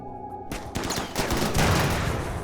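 Gunfire in the RimWorld video game: a dense, loud fusillade of overlapping shots and bursts that starts after a brief musical tone and keeps building through the whole stretch, with no talk.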